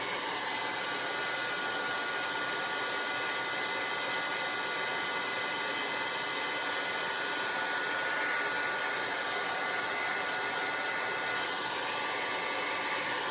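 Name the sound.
hair dryer drying paint on salt dough ornament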